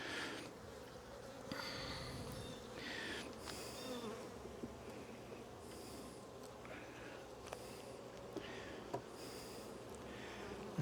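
Honeybees from a strong hive drone in a steady, close, continuous buzz throughout an early-spring hive inspection, with occasional soft rustles of frames being handled.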